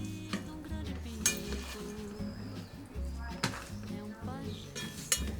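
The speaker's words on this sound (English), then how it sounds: "gently mix the rice so the mackerel and mushrooms are evenly distributed" Cooked rice with mackerel and mushrooms is gently mixed in a pot, with soft scraping and light clinks of a utensil against the pot at an irregular pace, close and quiet.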